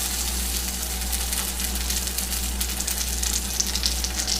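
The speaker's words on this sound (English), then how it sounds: "butter in the skillet" Butter sizzles in a skillet while pierogies are readied for browning, a steady close hiss with fine crackles throughout and no one talking.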